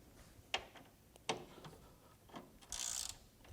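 A bolt loosened and backed out with an RBRT Torx bit, producing a few faint, sharp metallic ticks and a short scraping burst near the end.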